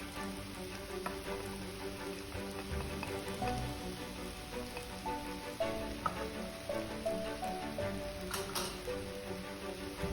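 Hing sizzling in hot oil over a medium flame for a bottle gourd and groundnut curry, a steady crackling fry with scattered pops and a few light utensil taps.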